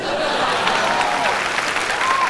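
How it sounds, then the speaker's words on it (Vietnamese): A studio audience at a televised singing show applauds in a steady, even wash of clapping that fills the whole short stretch, with no break and a faint murmur beneath. "Khán giả vỗ tay cho anh Trấn Thành."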